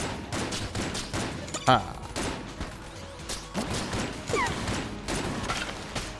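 Bursts of gunfire and bullet-hell shooting crackle in the game Exit the Gungeon, uneven and close, with a brief grunt from a player over the clatter.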